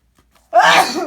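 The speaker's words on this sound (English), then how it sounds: "2 sneezes in a row." A single loud, close sneeze bursting suddenly after a short silence.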